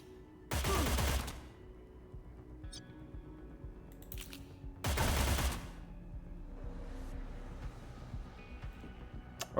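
Gunfire in the tactical video game Cyber Knights: Flashpoint: two loud, short bursts of shots, roughly four seconds apart, with quieter game ambience and faint effects between them.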